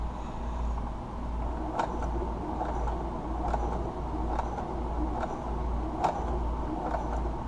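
Sewing machine stitching a baby sports jersey at a slow, deliberate pace, a steady hum with small periodic clicks of the needle throughout, no talking.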